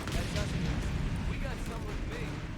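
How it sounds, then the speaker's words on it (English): Bazooka or mortar fire in the Company of Heroes 3 battle comes as dense, continuous booms and rumbling explosions filling the whole stretch, loud and layered, with voices faintly mixed in. "Looks like there is a bazooka of some sort, or maybe a mortar."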